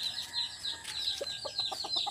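Breeding chickens on a Filipino farm cluck in short repeated calls with high chirps from chicks over them, close and moderately loud, with no talk.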